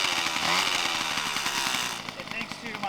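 A Peugeot 103 moped engine running with a fuel pump drawing from the stator plate, a buzzy, rasping two-stroke drone that holds steady and close, with some talk over it.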